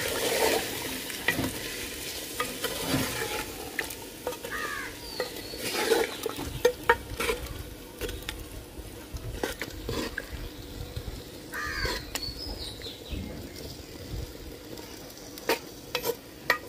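Handi chicken with a little added water cooks in a pot: a low, steady bubbling sizzle with occasional stirring clinks and scrapes, close by and quiet, a faint crow calling in the background.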